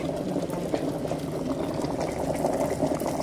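Water boiling hard during a live demonstration of gold plating quality, a steady dense bubbling and churning that stays loud and close throughout, with no one speaking.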